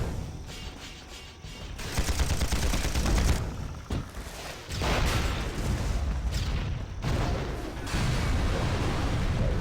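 Mortar fire in the Panzar video game, heard as repeated heavy barrages of booming blasts and crackling gunfire in dense, noisy stretches, with brief lulls between the bursts.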